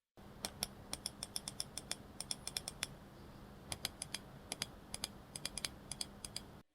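Crisp button clicks from a Deepcool MC310 ultralight gaming mouse come in quick, irregular bursts of sharp ticks, close and alone over a faint steady hum.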